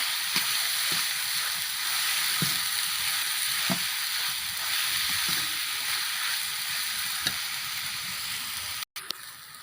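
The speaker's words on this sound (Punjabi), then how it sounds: "ਲਸਣ ਪਿਆਜ਼ ਅਦਰਕ ਸਾਡਾ ਜਿਹੜਾ ਹੈ ਭੁੰਨਣਾ ਸ਼ੁਰੂ ਹੋ ਗਿਆ ਹੈ" Garlic, onion and ginger paste sizzles and fries in a pan for palak paneer, a steady close crackling hiss with occasional faint stirring taps, cut off briefly near the end.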